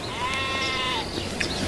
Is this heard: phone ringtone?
no